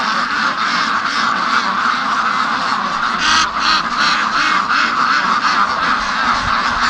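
A flock of free-range ducks quacks in a busy, overlapping chorus, close and continuous, with a few honking calls mixed in and no talk.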